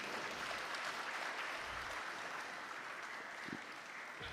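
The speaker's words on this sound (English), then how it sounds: "Could we give him a befitting hand clap?" An audience at an inaugural professorial lecture claps steadily in a large room, a dense even patter that holds at the same level throughout.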